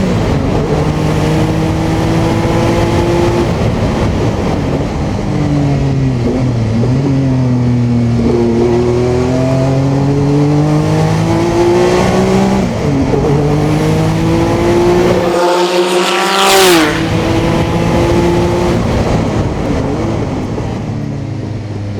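Porsche 962C turbo race car driven hard on track, engine note climbing and falling through gear changes at high revs, with a sharp wastegate whoosh and chatter near the end, loud and close with no voices.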